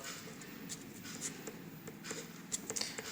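Quiet scratching of a pen writing a word during a Hindi lesson, faint irregular strokes over low background hiss.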